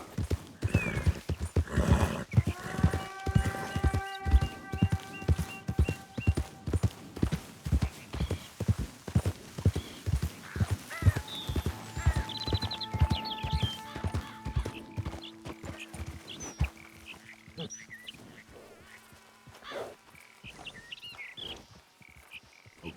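Steady rhythmic hoofbeats clip-clop along in Red Dead Redemption 2, with a horse whinnying briefly and scattered croaking and chirping sounds in the background.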